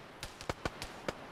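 Sharp gunfire from a military video game, six quick broadband cracks spaced irregularly across about a second, fairly faint and distant with no talk over them.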